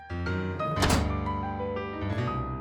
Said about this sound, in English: Luca slammed the drawer shut.